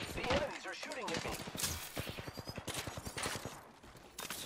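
Rapid automatic gunfire from enemies in Apex Legends, a long rattling burst of shots mixed with game sounds and some voice.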